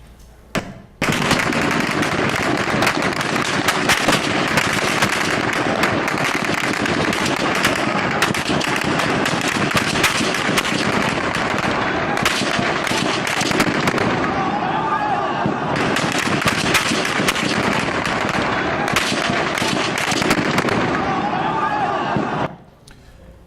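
Dense, rapid gunfire at a street protest crackles loud and continuous for over twenty seconds in a replayed recording, the bursts packed together over faint shouting before stopping abruptly.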